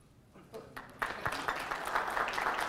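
Applause rises from an audience at a live magic and comedy show, starting sparse and swelling into steady clapping that fills the room, moderately loud and fairly close.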